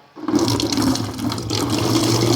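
Eucalyptus-dyed water poured through a sieve, with a close, steady splashing stream that runs continuously for a couple of seconds.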